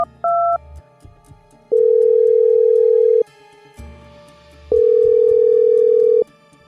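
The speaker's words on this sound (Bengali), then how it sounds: "হাত বাড়িয়ে রিসিভারটা তুলে নিয়ে জুড লরেন্সকে ফোন করলাম।" A telephone line gives steady tones, with a short two-pitch beep followed by two long sustained tones separated by gaps and faint background noise. No one speaks.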